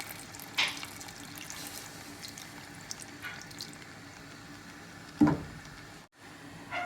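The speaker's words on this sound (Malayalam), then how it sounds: "ഇനി നമുക്ക് രണ്ടാമത്തെ പുളിയായ പുളിവെള്ളം ഒഴിച്ചു കൊടുക്കാം." Tamarind water is poured into a cooking pot while making the traditional Kerala dish muppuli, giving a soft liquid trickle with a few sharper splashes and clinks, fairly quiet and without speech.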